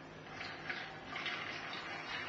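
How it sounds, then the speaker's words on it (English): Homemade wine is poured slowly from one container to another during racking, making a faint, steady, continuous liquid rush with no voices. "Just try and pour it slowly"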